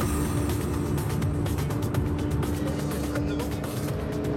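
A car speeding along a motorway, a steady loud engine and road roar with rushing wind, continuous and close, under a layer of talk.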